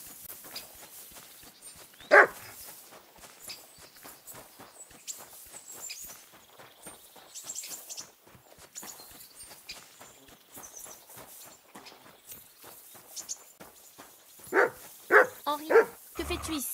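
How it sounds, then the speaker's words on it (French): A dog barks in a few short bursts in Kingdom Come: Deliverance II, first once and then several times near the end, with footsteps and game ambience between. "Des aboiements?"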